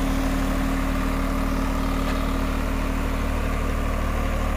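A Swaraj 855 4x4 tractor engine runs steadily at 1500 RPM, a loud, even diesel drone with a constant low hum and no talking.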